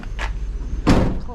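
A door is shut during bulk garbage picking, giving a loud, close thud-like bang near the end over steady low vehicle rumble, with a brief scrape earlier.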